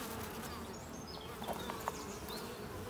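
Buckfast honeybees swarm over a European hornet, their buzzing a steady close drone with individual bees whining past and brief louder passes near the end.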